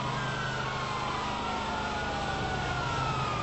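A wailing ambulance siren in a video game rises and falls steadily for a few seconds, loud and close over a constant engine drone, with no talk.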